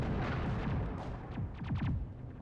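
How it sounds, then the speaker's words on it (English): Faint, distant bursts of gunfire and explosive booms rattle in rapid clusters across the background of the Mass Effect video game, with no talking. "I can hear a lot of gunfire in the background."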